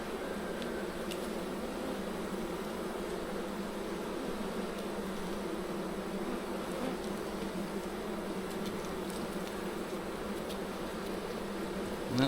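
Honey bees buzz steadily inside a hive during a queen introduction, a dense continuous drone that holds at an even, moderate level throughout with no voices.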